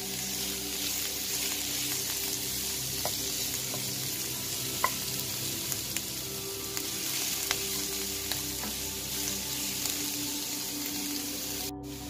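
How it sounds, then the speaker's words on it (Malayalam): Sliced onions sauté in a hot pan for Kerala-style prawn biryani, giving a steady, even sizzle with scattered faint clicks and pops throughout, close and moderately loud with no voices. "ഇനി ഇതിലേക്ക് സവാള ചേർത്ത് നന്നായിട്ട് വഴറ്റിയെടുക്കുക"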